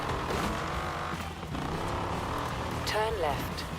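A car engine in Forza Horizon 4 drones steadily and loud throughout, with a brief rising chirp near the end and a faint voice mixed in underneath.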